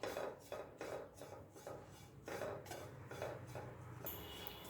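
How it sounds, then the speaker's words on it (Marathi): Grated coconut dry-roasted in a pan for modak filling, a spatula scraping and clinking against the metal in a steady repeated rhythm of strokes, close and moderately loud with no voices. "खोबरं आता छान खमंग असं भाजून घेतलेलं आहे"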